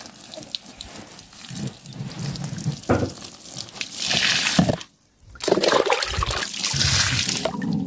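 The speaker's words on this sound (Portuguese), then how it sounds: "deixa eu jogar mais água aqui no pezinho de pimenta" Water running and splashing steadily onto a pepper plant in a rural vegetable garden, a continuous close pour with a brief pause midway before resuming.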